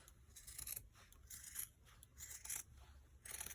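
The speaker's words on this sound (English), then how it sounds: "here I am using my dollar scissors" Dollar-store scissors snip and rasp through heavy fabric being added to a journal's exposed spine, giving several close, quiet crunchy cuts in a rough rhythm with no talking.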